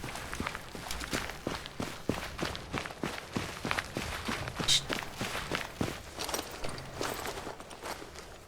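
Steady footsteps crunch over loose rubble at a walking pace in the video game ArmA 3, close and fairly quiet, with no talking.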